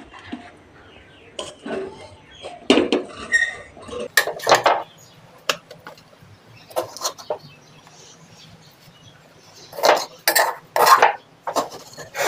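Rice flour dough for dolla pithe is tipped into a bowl amid loud, irregular clatters and clinks of metal utensils and pots, sharp bursts spaced across the stretch with quiet gaps, close and without speech.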